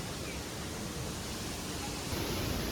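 A village waterfall in full monsoon flow roars as a dense, steady rush of falling water, loud and close, with no break throughout.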